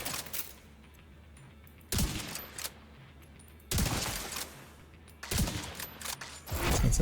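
Bursts of rapid automatic gunfire from a video game shooter come in four loud, dense volleys, with quieter ambient stretches between them.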